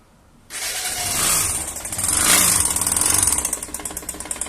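A motorcycle engine with a damaged connecting rod starts up after a brief quiet moment, then runs and revs loudly and close by with a harsh mechanical clatter and rattling knock.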